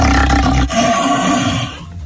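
A man imitates a lion's roar by growling through an empty paper towel roll, a loud, sustained throaty roar close to the listener that fades at the end.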